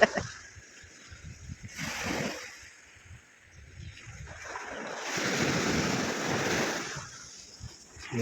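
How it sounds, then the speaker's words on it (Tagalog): Sea waves surge onto a sandy shore near Pulilo Island, two broad rushing swells building and fading with heavy wind buffeting the microphone and no clear talking. "Dagat. O alon dagat."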